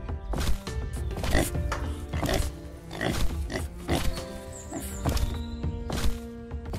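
A pig grunts and snorts amid a busy jumble of animal noises and shuffling hooves, loud and close throughout.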